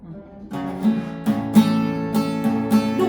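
An acoustic guitar with a capo raised up the neck is strummed in a steady rhythm, bright ringing chords repeating every half second or so, played alone at moderate volume.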